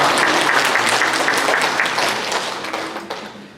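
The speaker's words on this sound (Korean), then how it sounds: "우리 박수로 환영하면서 잘 가시라고." Church congregation applauding a departing pastor and his wife, a dense wash of many hands clapping at full strength, then gradually thinning and fading toward the end.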